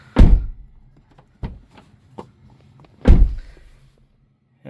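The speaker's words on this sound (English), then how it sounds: "Go ahead and shut the door." A Toyota GR86 car door is shut, giving a solid low thunk, followed by a lighter knock and then a second firm thud, each close and separated by quiet.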